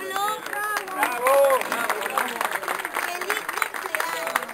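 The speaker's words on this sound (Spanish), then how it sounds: "Primero, fuerte las palmas para Pablo." Guests at a lively 40th birthday celebration clap together in a burst of applause amid cheering and excited voices, loud and close.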